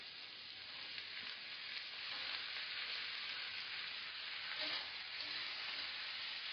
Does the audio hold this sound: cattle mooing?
no